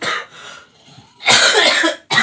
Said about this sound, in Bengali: কাশি সে ঘোকাং ঘোকাং করে কেসেই যাচ্ছে